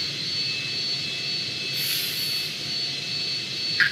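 A steady, fairly loud whine of an F18 fighter jet engine in Microsoft Flight Simulator, a sustained drone with thin tonal lines and a brief swell midway, heard alone.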